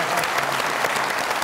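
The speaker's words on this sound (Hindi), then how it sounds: "बहुत सारी तालियां." Brief burst of studio audience applause on a televised comedy talk show, thick continuous clapping heard up close, with no voices over it.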